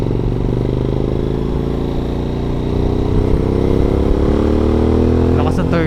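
A Suzuki V-Strom 1000 adventure motorcycle accelerates hard in third gear, its loud, close engine note climbing steadily in pitch throughout, with a brief rush of wind noise near the end.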